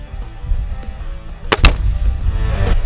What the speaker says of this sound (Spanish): estoy disparando realmente a ojo